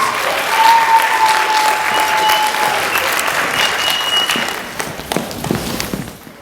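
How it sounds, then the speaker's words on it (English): Elementary school literacy competition audience clapping for third grade writing winners, a full, continuous round of applause at close range that gradually thins into sparse, separate claps before fading out. "Let's give them another round of applause."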